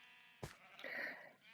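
A Minecraft sheep bleats once, a short wavering bleat in the middle of a farm build, clear and alone over quiet game ambience, preceded by a brief soft thump.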